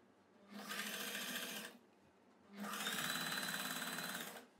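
A sewing machine runs two bursts, about a second and two seconds long, while it stitches the shoulder seam of a churidar. The whirring is close and clear, with quiet pauses between the bursts.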